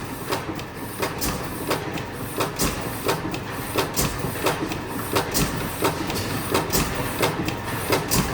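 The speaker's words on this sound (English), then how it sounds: "Smooth running engine, isn't it?" A Superior side-shaft gas engine by National Supply Company, with big flywheels, running steadily at a show, giving off a regular rhythmic knocking beat, moderately close, over a continuous mechanical background.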